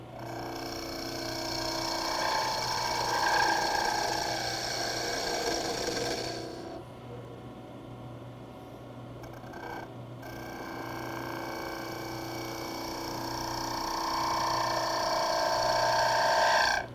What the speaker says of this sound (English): If you hear some chatter noise like that, stop and make a lighter cut